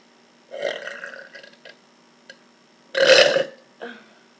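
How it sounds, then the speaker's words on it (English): A person burps twice: first a drawn-out, moderate belch, then after a pause a louder, rougher one, followed by a brief short grunt, all close up in a quiet room. "Gonna see if I can burp."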